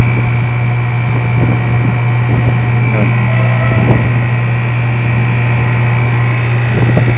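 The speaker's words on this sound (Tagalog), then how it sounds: "Nagba-vacuum na po ang unit." A vacuum pump evacuates a Daikin R32 inverter air conditioner, giving a loud, steady mechanical drone with a strong low hum that runs unbroken throughout, accompanied by faint clicks and rattles.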